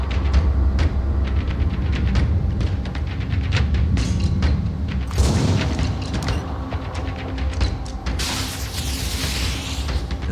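A radar guided weapon fires in the turn-based strategy game Terror From The Void, with repeated dull booms and mechanical clatter over a steady rumbling background, ending in a louder burst of noise.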